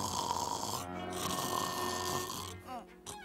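A cartoon Smurf snores in an animated film, a drawn-out rasping snore followed by a short snort, close and fairly loud over background music.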